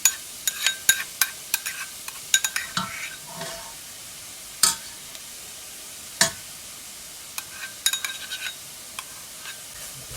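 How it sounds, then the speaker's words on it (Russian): A soup base with tomato paste fries in a pan in a village kitchen, a soft background sizzle broken by sharp clicks and scrapes of a spoon stirring at irregular intervals. "Пусть вместе обжарится с томатная паста тоже пусть обжарится."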